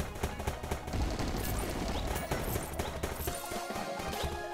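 Rapid gunfire and shooting effects from the mobile action game Guardian Tales, dense and continuous with music and impacts layered over them throughout.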